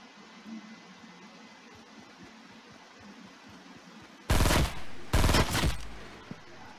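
Two sharp, loud bursts of burst-rifle gunfire ring out in the Fortnite mobile video game, close together near the end, over quiet game ambience.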